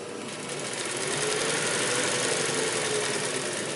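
Pfaff 145-H3 triple-feed industrial sewing machine with a clutch motor, stitching through two layers of Naugahyde about 3/16 inch thick: a steady, fast, continuous mechanical whir and clatter close by.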